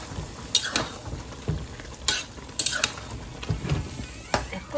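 A spoon stirs sour-sweet jujube pickle in a pan, making irregular scraping clicks and soft knocks at a close, moderate level with a faint sizzle beneath.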